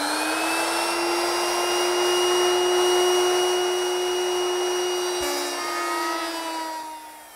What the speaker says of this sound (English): I'll make that beveled rabbet using a 22 degree beveling bit.